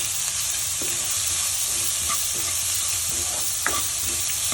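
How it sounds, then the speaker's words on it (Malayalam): Onion, carrot and beans stir-fried in a hot pan for vegetable upma give a steady, close sizzle and frying hiss, with occasional scraping stirs and light clinks of a spatula throughout, no one speaking. "ഇനി നമ്മൾ എടുത്തു വെച്ചിട്ടുള്ള സവോളയും ക്യാരറ്റും ബീൻസും ഇട്ടിട്ട് നല്ലപോലെ ഇളക്കി കൊടുക്കണം"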